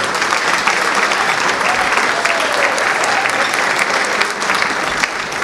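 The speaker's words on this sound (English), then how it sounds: "let's have a round of applause for everyone that's here" A large audience at a London Turkish police awards and solidarity gala applauds loudly and continuously, dense clapping from many hands filling the hall, close and sustained.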